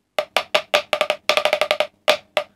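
A snare break's first bar played on a practice pad: a crisp, close run of sharp taps with quick grouped rolls in the middle, then two spaced hits, dry and alone with no talking.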